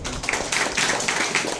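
A short burst of clapping from an audience at a birthday celebration for HIV-positive children, scattered hand claps standing out over a dense, noisy room.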